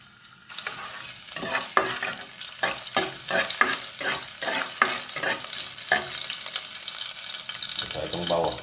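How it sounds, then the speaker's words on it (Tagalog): Ginger sautéing in a pan for chicken sotanghon soup: a steady sizzle of frying with repeated scraping strokes of a spatula stirring in a loose rhythm, close and clear. "Saka igisa natin itong ating luya."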